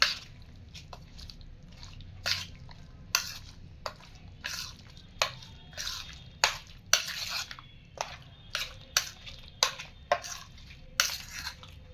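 Chicken and curry leaves being stirred in a pan, giving a close series of irregular wet squishing and scraping strokes with brief pauses between them, and no talking.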